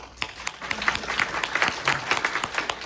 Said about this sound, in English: let's give all of you a round of applause.